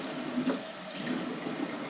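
Tap water runs steadily as it is poured over a whole turkey sitting in brine, a continuous soft splashing and trickling that stays close and even throughout with no voices.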